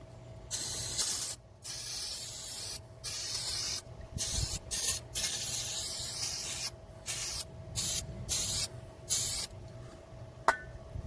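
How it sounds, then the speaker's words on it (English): Bursts of aerosol lubricant sprayed onto the rusty front hub of a 2007 GMC Sierra pickup, a dozen or so short hissing blasts of uneven length broken by brief pauses, close and fairly loud with no talking. "Spray this here down with some good lube."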